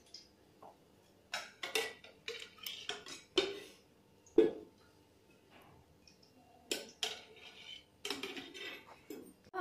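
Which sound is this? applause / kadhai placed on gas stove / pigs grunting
kadhai placed on gas stove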